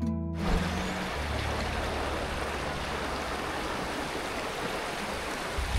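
Cold, clear river water flowing at Tabakoshi, a steady, full rushing wash that stays even from start to end after a brief softer opening, with no voices.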